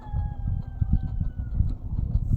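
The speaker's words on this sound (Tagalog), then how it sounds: "Ingay ng manok nak" Chickens cluck and squawk in a steady, busy chorus, with a faint thin tone running underneath.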